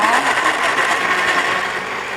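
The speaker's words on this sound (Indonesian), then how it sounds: "Ya, kita mulai langsung di blender" Kitchen blender whirring at high speed while blending a healthy juice, a loud, steady buzzing motor that runs continuously for a couple of seconds, close to the listener.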